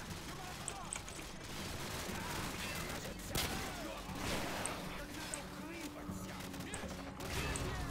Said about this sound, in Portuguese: É muito tiro, tiro.